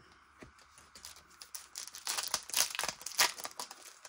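Packaging crinkles and rustles as an order of journal supplies is unwrapped, with soft scattered crackles building into louder, denser bursts of plastic and paper handling at close range.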